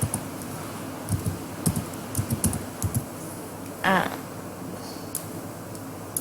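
Fingers tap out a short burst of computer keyboard keystrokes while text is entered into a PowerPoint 2010 slide, the irregular clicks clustered in the first half, followed by a brief louder rattle and then sparse taps in a quiet room.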